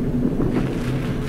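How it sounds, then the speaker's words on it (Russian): Wind on Mount Etna buffeting the microphone in a steady, loud low-pitched roar that runs through the whole brief moment, with no voices. "Ветер не очень сильный"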